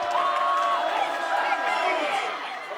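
High school football playoff crowds at Lancer Stadium in Eldridge, Iowa, a dense sustained roar of cheering and whooping voices, loud and steady for a few seconds.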